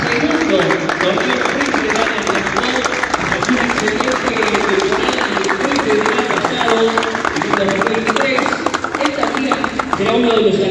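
An audience applauds to welcome a player at a team event, sustained steady clapping running under a loud announcer's voice throughout.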